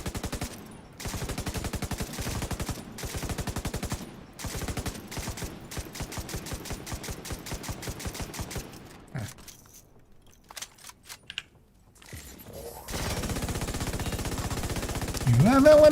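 Light machine gun fire in a shooter game: long, rapid bursts of evenly spaced, loud shots rattling in several runs, broken by a quieter stretch of scattered single shots before sustained firing resumes, with voices talking over parts of it.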